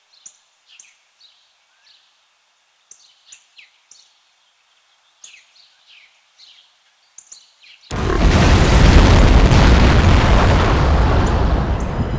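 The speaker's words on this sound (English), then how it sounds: "there was an explosion of unknown origin in the town of Shilling" In the spy video game No One Lives Forever, scattered bird chirps give way to a sudden, loud explosion whose roaring rumble fills the remaining seconds.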